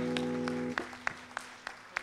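Scattered, sparse claps from a live audience at a Western swing band show, honoring the drummer, following a sustained held musical note; the claps are few and spaced apart rather than a full ovation.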